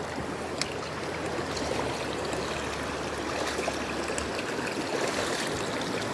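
A shallow river flows steadily over rocks in an unbroken broadband wash, with occasional faint splashes heard close by along the bank.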